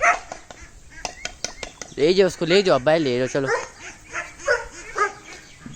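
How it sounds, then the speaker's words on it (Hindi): Dogs barking and whimpering in a haveli courtyard, several sharp barks early then a louder run of yips and bow-wows, mixed with someone talking throughout. "जैक और तुम दोनों जब जो चीज़ देखते हो उस पर भौंकना शुरू कर देते हो।"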